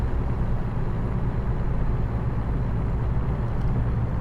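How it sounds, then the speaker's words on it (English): A truck engine in American Truck Simulator roars with a steady, deep rumble, loud and close, with no voices. "I don't think I've ever heard it give such a meaty roar."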